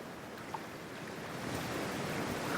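Ocean water in Cyberpunk 2077 washes and rolls in a steady, close surf-like rush that swells slightly louder toward the end, with no talking.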